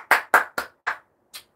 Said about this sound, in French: Et voilà, on applaudit.